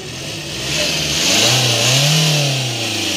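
A high-mileage Kia Seltos with about 1.5 lakh km on it, engine revved up to around 5000 RPM: a loud, close, steady rising roar that swells and holds, with no talking.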